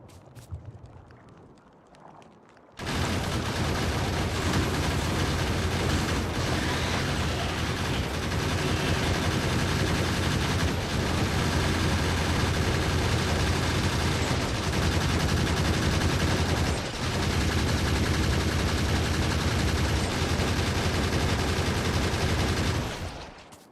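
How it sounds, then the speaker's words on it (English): Video game turrets fire in a loud, dense, continuous barrage that starts abruptly after a few seconds of quiet and keeps going with only brief dips until the end. No one speaks over it. "I do like watching the turrets in action."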